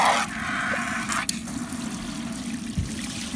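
Water pours into a stacked two-bucket DIY water filter, a steady trickling fill at close range that runs alone through the whole stretch, with one brief knock partway through.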